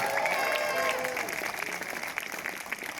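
An audience at a queen's coronation ceremony claps in a steady, dense burst of applause, with crowd murmur and some talk mixed in, tapering slightly toward the end.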